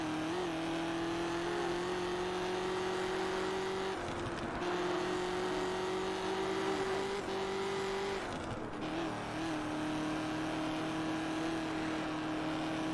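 A Ford GT in the video game Test Drive Unlimited revs loudly and steadily through gear changes, its engine pitch climbing, dipping briefly at each shift, then climbing again, with no talking.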